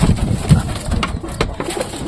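Pigeons coo in a loft or coop where the birds and their chicks are kept, soft low throaty calls repeating close by over a steady murmur of birds.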